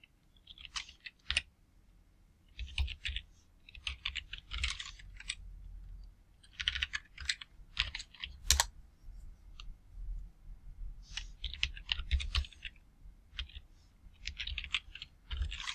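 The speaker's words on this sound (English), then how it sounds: "I'll explain in a minute when I finish typing." Computer keyboard typing in quick clustered bursts of sharp clicks with short pauses between runs, close and fairly quiet, with no talking.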